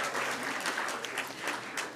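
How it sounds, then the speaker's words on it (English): An audience applauds student musicians, including a cellist from Quince Orchard High School, at an education awards ceremony; steady, fairly quiet clapping fills the hall without a break. "Let's give them a big round of applause."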